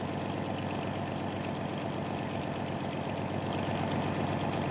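An ATV engine idles in the survival game Last Day on Earth with a dense, rumbling drone and a fine rapid throb. It holds steady and loud throughout, growing slightly louder at the end, with no voices.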